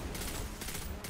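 A short, continuous burst of rapid gunfire in Destiny 2, dense and steady, heard alone for about a second.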